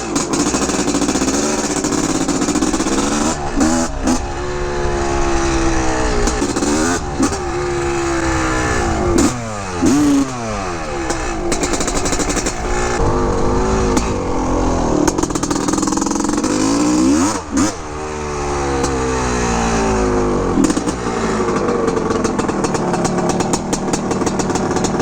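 A 1985 Honda CR500 motorcycle with a freshly rebuilt, polished engine and oversized aluminum radiators revs loudly and repeatedly, its pitch swooping up and down in several bursts over a steady, raspy two-stroke drone.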